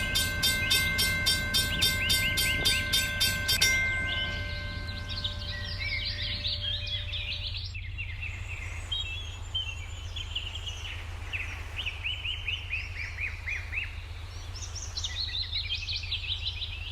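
A train passes a crossing, its horn blaring for several seconds before giving way to high, squealing wheel and rail screeches over a low rumble, heard from a moderate distance.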